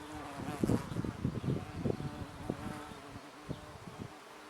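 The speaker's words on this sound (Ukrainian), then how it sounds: "І джміль також прилітає сюди." Bees and a bumblebee work the blossoms of a tree peony, their buzzing rising and falling in close, uneven bursts as insects move past, with quieter hum between passes.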